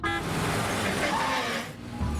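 A bus pulls in with a sustained rumble of engine and road noise, and a brief horn note sounds at the start over the steady wash of traffic.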